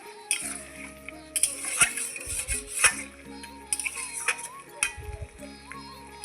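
A spoon stirs spinach and bori curry in a pan, knocking and scraping the metal in irregular clinks over soft background music.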